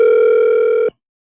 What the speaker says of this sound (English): the phone is just calling